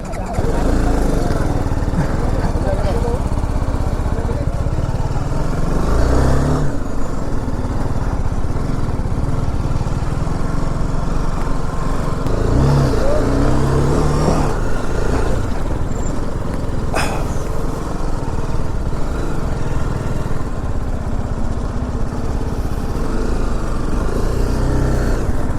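A BMW G310 GS adventure motorcycle engine drones steadily while being ridden off-road, a loud continuous buzz with wind noise and small shifts in revs, with a rider's voice speaking faintly at times.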